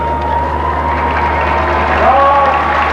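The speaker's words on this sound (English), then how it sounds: "Now hear the crowd roar as they step onto the shore" A large Australia Day crowd roars and applauds as the Prince and Princess of Wales step ashore, a steady, fairly distant wash of clapping and cheering with a low hum beneath.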